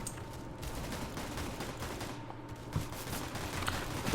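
Rapid gunfire in the CS:GO Arms Race mode, bursts of shots crackling steadily over a dense game background with a sharper crack near the end.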